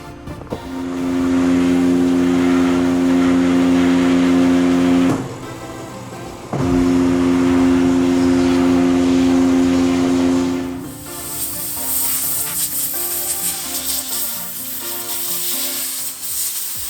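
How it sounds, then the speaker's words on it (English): Hydro Blast Max blasting abrasive out of police handcuffs during Cerakote prep: a loud steady hiss with a strong tonal hum, briefly dropping around the middle, then shifting to a brighter, harsher spray near the end. "I'm gonna use the Hydro Blast Max, because I can actually get in there and blast that abrasive that's in there out."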